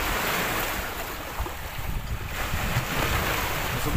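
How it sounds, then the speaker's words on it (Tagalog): Gentle lake waves washing on the shore at Halahala, Rizal, a continuous low rushing wash mixed with wind buffeting the microphone, steady and close. "Hindi ganun kalakas ang alon."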